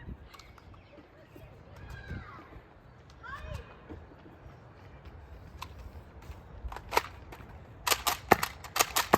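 An N-Series Pinpoint dart blaster firing darts from its magazine, a quick cluster of sharp, close pops near the end after quieter handling noises, with a voice talking earlier.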